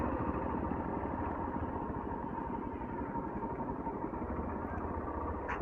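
Motorcycles racing along a road, a steady loud engine roar held close throughout with no break or talking.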